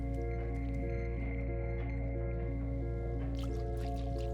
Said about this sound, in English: Now I can walk in water when it's like paw deep.